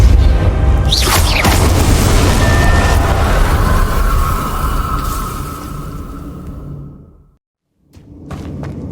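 Depulso spell cast in Hogwarts Legacy, heard as a sharp whoosh followed by a deep booming impact and rumbling debris, then a brief silence before another quick burst of game effects.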